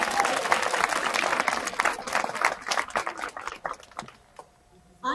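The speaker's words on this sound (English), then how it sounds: "give a moment of applause for them" Applause for faculty and staff at an outdoor high school graduation ceremony, a crowd clapping steadily before the sound thins into scattered claps and stops near the end.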